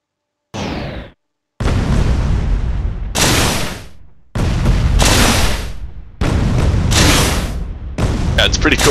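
Turrets in the Space Engineers video game fire in loud, repeated bursts, several heavy booming volleys separated by short gaps, with voices heard around them.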